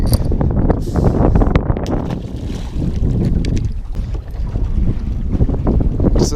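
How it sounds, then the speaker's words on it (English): Strong wind gusts buffet the microphone on open water during crappie fishing from a boat, a loud continuous rushing roar with no talk. "Said I wanted a little wind."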